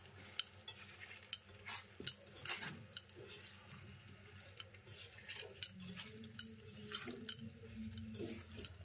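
Amla pickle being stirred with red chili powder in a pan over a gas flame: soft, intermittent scraping and clicking strokes with a faint sizzle, quiet and close.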